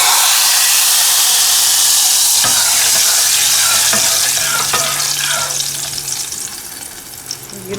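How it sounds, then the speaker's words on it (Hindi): Cumin seeds tempering in hot oil in a pot, a loud, dense, continuous sizzle with a few sharp crackles and pops that gradually settles and softens toward the end. "सफ़ेद ज़ीरे का तड़का"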